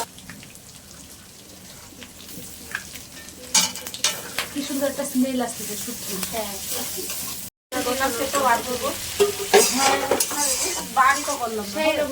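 Chicken meat fries and is stirred in a pan, a steady sizzle that grows louder and busier partway through, with repeated scraping and clattering of the utensil against the pan and faint voices nearby.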